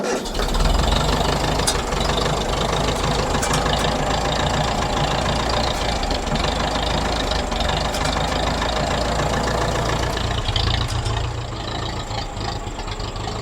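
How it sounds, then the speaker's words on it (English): A small engine on a farm machine cranks over with its choke worked by hand, then settles into a steady, loud, continuous idle that runs unbroken for the whole stretch with no voices. "operate the choke manually while I hit the starter button"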